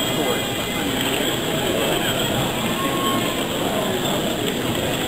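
A steady rumbling, rattling rail noise continues throughout, close and loud, like a small train rolling along the track, from a model of a North Norfolk Railway train at a model railway exhibition; voices may be faintly present.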